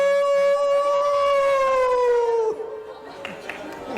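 A voice imitates an ambulance siren on a studio game show, a loud, steady two-tone wail that glides slightly downward for about two and a half seconds before breaking off into faint studio noise.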